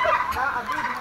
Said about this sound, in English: Now we're at the turkey pen.